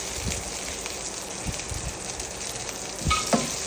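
Onion and whole garlic fry in oil in a pan, giving a continuous loud sizzle with a few sharper pops and a stirring scrape near the end, with no voices.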